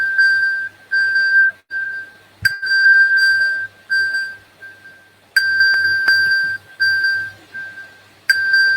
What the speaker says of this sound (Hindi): अब ये जो है वो उसके ऊपर फाइंड माय फ़ोन की अलर्ट आना शुरू हो गई है